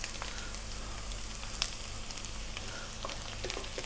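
Cumin seeds sizzling in hot oil with browned potatoes, a continuous crackling fry at moderate level with a few small pops and stirring clicks, no voices.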